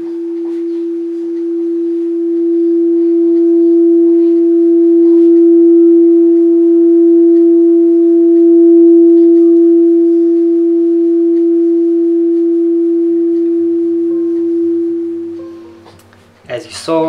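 A crystal singing bowl played with a silicone stick sings one pure, sustained tone that swells and holds loud and smooth, then fades near the end as handling noises follow.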